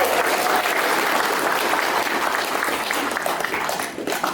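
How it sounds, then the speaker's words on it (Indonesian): Thick, sustained applause from a gathered crowd at a political event in Belu regency, Indonesia, loud and continuous throughout with a slight dip near the end. "Tepuk tangan dulu buat Paket Sehati."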